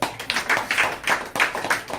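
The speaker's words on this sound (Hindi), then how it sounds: "ये मेरे भाई के लिए ताली बजाएं" A small group at a church gathering claps in a few uneven bursts, close and fairly loud, with brief pauses between.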